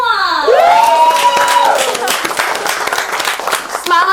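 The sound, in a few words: audience applause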